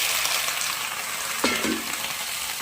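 Kangkong, water spinach, hits a pan of sautéed garlic, onion and tomato for adobong kangkong, with a constant close frying sizzle and a brief clatter midway.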